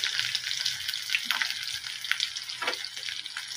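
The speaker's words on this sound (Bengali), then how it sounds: "সম্পূর্ণ বেগুনটাকে ভেজে তুলে নিয়ে ভালো মতনই ভাজবো" Eggplant frying in a pan for begun bhujji, a continuous close crackling sizzle with small pops and scraping touches throughout, no voices.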